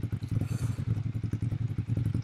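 A Ducati Monster 796 engine idles close by with a loud, uneven, throbbing beat and a rapid lumpy rhythm that holds steady throughout.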